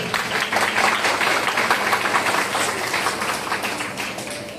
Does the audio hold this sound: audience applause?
yes